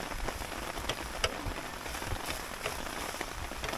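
Steady rain falls outside at a lakeside campsite, a continuous even patter with occasional louder drops, no voices present.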